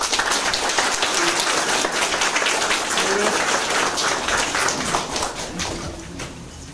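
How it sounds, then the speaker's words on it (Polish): An exhibition audience applauds, a dense, loud, even wash of clapping that carries on for several seconds and thins slightly toward the end, with faint voices mixed in. "Drodzy Państwo, brawa!"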